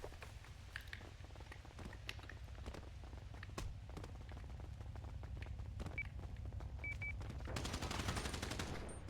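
Gunfire in a shooting video game comes as faint, scattered sharp shots and short bursts over a low background rumble. The shots get busier toward the end.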